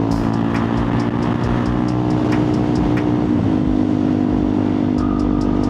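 Honda CRF250L motorcycle engine droning steadily at close range as it shifts into second gear, a continuous loud hum with a brief dip and change in pitch midway.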